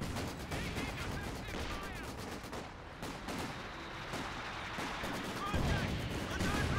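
Dense, continuous gunfire and explosions pound a bunker in the strategy game Company of Heroes 2, with rapid overlapping bursts. A commentator's voice runs underneath.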